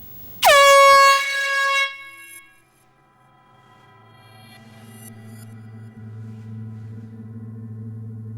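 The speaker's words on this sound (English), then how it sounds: "Silence, please, while I sound the horn." A loud air horn blast rings out in a hushed studio setting, a strong tonal honk lasting about a second and a half before cutting off, followed by a low droning hum that swells quietly underneath.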